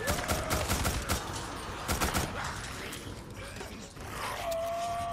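A gun fires in the Days Gone video game as a burst of sharp shots with mechanical clanks in the first half, followed by quieter rattling and a tonal whine near the end.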